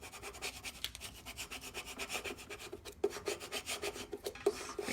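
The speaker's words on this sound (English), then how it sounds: "Scrape it good." A hand scraper rubs back and forth over a small piece of cut vinyl laid on a sign, giving a steady run of close, rasping strokes with no talk.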